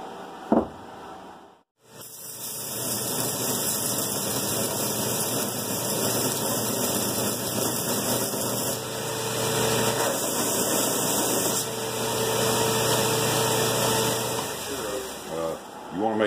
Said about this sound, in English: So, let's get the grinder fired up.